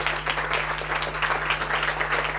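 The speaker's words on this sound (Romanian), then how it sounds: "haideți să-l aplaudăm pe..." An audience at a contest event applauds a winner with steady, dense clapping that holds throughout, over a constant low electrical hum.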